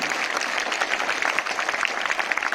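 Dense, steady applause from a school assembly audience clapping for their teachers, a continuous close wash of many hands with no pauses and no talking.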